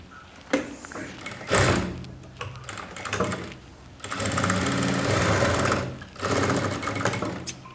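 A sewing machine double-stitching the cup of a saree blouse runs in several close, loud bursts of rapid mechanical whirring, separated by short pauses.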